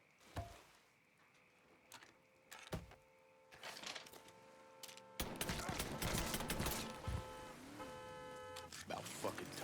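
Gunfire in Mafia III, sharp shots and bursts that grow denser and louder in the second half, mixed with other game sounds.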